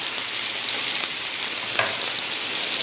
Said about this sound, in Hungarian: Az még nyugodtan sülhet.